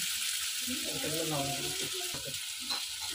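Ginger and cumin paste sizzles steadily in a hot pan for a rohu fish curry with potatoes, a constant close frying hiss with faint stirring clinks while a voice talks over it.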